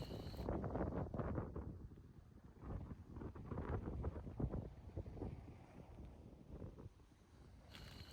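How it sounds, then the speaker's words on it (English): Strong gusts of wind at a campsite in Baja California buffet the microphone in rough, uneven bursts, with no voices. "It was windy."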